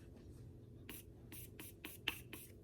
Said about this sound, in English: Use my setting spray. Ooh. Spray my brush.